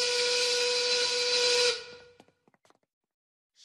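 A loud, sustained 1930s-style steam work whistle blows steadily for nearly two seconds, then cuts off abruptly, leaving a few faint clicks and near silence.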